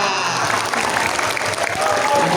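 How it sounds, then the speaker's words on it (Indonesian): School audience at a junior high school event in Kademangan clapping together, a loud continuous wash of applause with some crowd noise, close and sustained throughout. "yang kompak ya langsung tepuk tangan habis itu ya"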